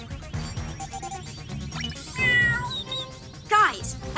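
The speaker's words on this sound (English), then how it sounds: "I'm picking up bird and cat sounds coming from the park." A cartoon cat meows several times in short, high cries mixed with other busy sounds and talking, with the loudest meow near the end.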